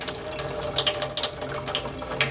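A faucet trickles weak, cold tap water in a Flint home during the water crisis, a soft watery patter with small splashes and irregular droplet ticks close to the microphone.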